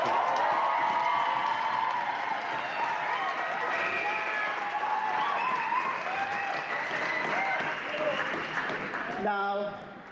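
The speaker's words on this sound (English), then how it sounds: "I need you to make a lot of noise. Now you can clap and scream." A group of school learners clapping and screaming loudly for a guest at a Grade 12 maths workshop, a dense continuous roar of applause and shouts that fades slightly toward the end.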